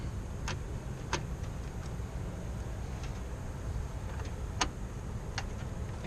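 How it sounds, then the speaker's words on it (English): Sharp, sparse metallic clicks from a car engine cooling down after a drive tick irregularly against a low steady hum, with no talking. "The car is still cooling down from me coming home from work. You can hear it clicking."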